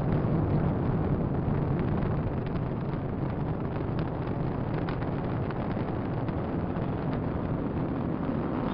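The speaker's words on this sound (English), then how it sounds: "Liftoff of the SpaceX Falcon 9 rocket, launching Dragon to the International Space Station" A SpaceX Falcon 9 rocket lifts off carrying Dragon to the International Space Station, a steady broad rumbling roar with wind buffeting, unbroken and loud throughout.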